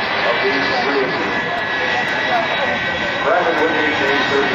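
Jet-powered car fitted with three Westinghouse J34 jet engines with afterburners idles loudly at an air national guard open house runway, a steady roaring whine under an announcer's talk.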